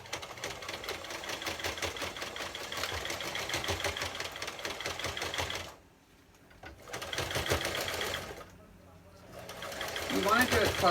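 A sewing machine runs steadily while stitching a nylon mask, its loud close motor hum stopping twice in short gaps before starting again.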